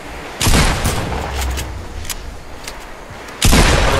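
Heavy gunfire in a multiplayer video game, with two loud, close bursts of booming shots separated by a quieter stretch of rumbling and scattered distant pops.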